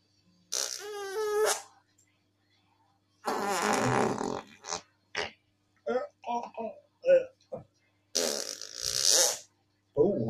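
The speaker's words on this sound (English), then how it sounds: "That long fart you do just as you're standing up." Several fart sound effects, including long wavering ones, come in separate bursts with short gaps between them. They are loud and close, with no voices heard.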